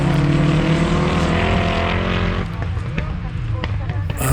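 Autograss race cars roar off the start at a Central Scotland club meeting, a loud, harsh engine blare that eases after a couple of seconds into rougher engine noise with sharp pops.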